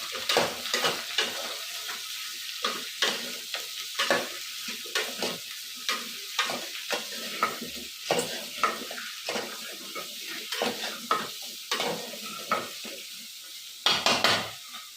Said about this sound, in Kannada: ಈಗ ಇದನ್ನ ನಾವು ಚೆನ್ನಾಗಿ ಎಣ್ಣೆಲಿ ಬಾಸ್ಕೊಳ್ಳೋಣ